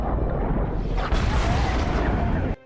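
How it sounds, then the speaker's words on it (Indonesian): A torpedo explodes against a submarine in the film Hunter Killer, a deep, loud, sustained rumbling blast with a sharper burst about a second in, filling the scene and cutting off abruptly near the end. "USS Tampa Bay mendeteksi adanya torpedo bawah air yang meluncur ke arah kapal mereka. Ledakan pun tak terhindarkan."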